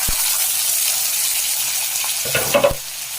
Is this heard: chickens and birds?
no